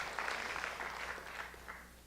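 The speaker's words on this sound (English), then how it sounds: "Please applaud for them." Audience applauding after being urged to clap for a group of guests at an evening event, a steady, moderately distant patter of hands lasting a couple of seconds.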